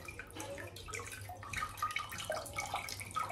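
Water is poured over a stained brass utensil to clean it, giving a faint, uneven trickle and splash with small drips and gurgles that run on throughout.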